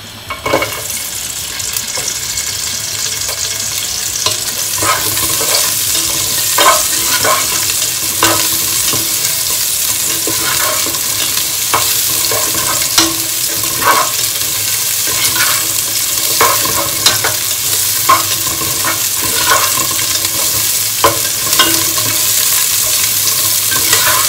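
Onions fry in a hot, fairly large pot with a loud, continuous sizzle, overlaid by repeated stirring scrapes and clacks. The sound is close and busy, with no talking.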